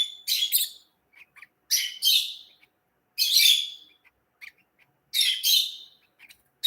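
Three-week-old baby lovebirds give shrill, close chirps in four short bursts with near silence between them, each burst made of rapid high-pitched calls.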